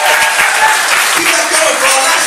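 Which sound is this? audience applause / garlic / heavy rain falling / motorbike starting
audience applause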